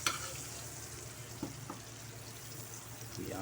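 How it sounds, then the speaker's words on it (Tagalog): Garlic is added to melted butter for chicken wings and sizzles softly and steadily in the pan, with a few light clinks of stirring and a brief louder hiss near the end. "Tapos add natin yung ating garlic."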